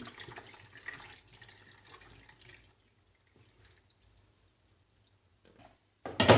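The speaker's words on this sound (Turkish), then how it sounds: "Şimdi onları süzgece döküyorum. Çünkü fazla suyunun ve biraz çekirdeklerinin akmasını istiyorum." Chopped tomatoes tipped into a colander for canning, juice and seeds draining away: a brief wet pour and trickle at the start, then near silence, ending in a sudden louder splash.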